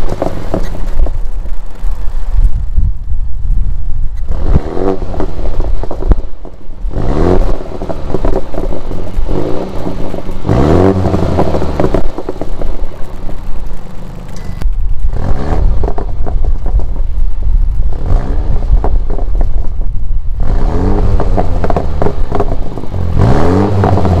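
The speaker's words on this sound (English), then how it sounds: "I'm going to start the car up, give you guys a couple of different revs in normal mode, in sport mode" A 2019 BMW M135i's engine fires up and revs repeatedly in normal and sport modes, loud and close, with sharp rising bursts separated by brief dips back to idle and no talking.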